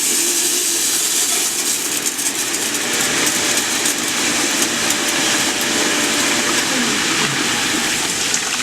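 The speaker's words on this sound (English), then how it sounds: "Now I'm going to turn this pump on." A 5 hp pump churns the hot tank of an AXE SW-2444 Terminator spraywasher at about 80 gallons a minute. Water rushes and gushes in a dense, loud, continuous wash that stays steady throughout.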